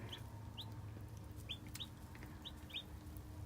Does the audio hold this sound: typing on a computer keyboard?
no